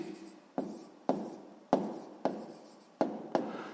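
A pen or pencil writing a sixth-grade math exercise on paper, a series of about seven short scratchy strokes, each with a sharp onset that quickly fades, close and quiet, with no voices.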